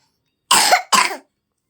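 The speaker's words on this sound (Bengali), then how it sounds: "কাশি করেছে দেখেছো" Two sharp coughs in quick succession from one nearby person, each a short harsh burst, with silence before and after.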